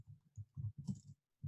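Quiet clicks of typing on a computer keyboard, a short irregular run of soft keystrokes with brief gaps and a small pause near the end.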